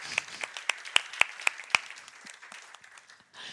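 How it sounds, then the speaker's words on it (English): Audience members at a talk clap for challenge participants called to center stage, a few sharp distinct claps ringing out over softer scattered clapping that fades away, with no speech. "Applause for the really great challenges that you did."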